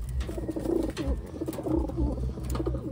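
Taiwan pigeons coo nearby in soft, repeated rolling calls, several overlapping in a loose rhythm against a low background hum.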